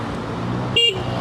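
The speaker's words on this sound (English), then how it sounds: "Little honk." A short, high scooter horn toot sounds once over a steady engine hum and street noise, from a Honda Click 125 scooter.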